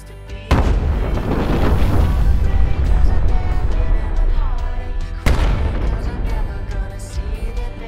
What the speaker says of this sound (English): we got detonation, we got a slab